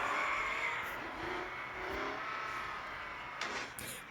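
A car drifts in a racing game, its engine droning and whining as the tires screech and skid in long, wavering squeals, with a couple of brief scrapes near the end, all at a moderate, steady level.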